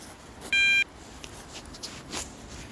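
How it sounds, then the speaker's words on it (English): A TMC carp fishing bite alarm gives a single short, clear electronic beep by the bank, then faint outdoor background with light rustles. "TMC alarms. Very nice sounding."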